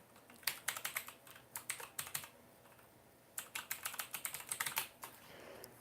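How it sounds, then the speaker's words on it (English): Fingers type on a clicky mechanical computer keyboard, close up, in two quick bursts of sharp clacking keystrokes separated by a short pause, with no voices. "I've got one of them clicky keyboards too. I know it's kind of loud"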